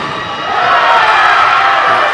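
A basketball crowd at a Lincoln College men's game against Graceland swells into loud, sustained cheering and shouting in an indoor gym.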